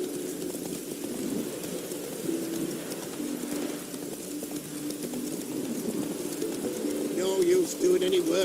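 A pigeon in The Witcher 3: Wild Hunt coos in low, repeated murmurs, rising toward the end, over a faint rainy ambience with occasional clip-clop of hooves.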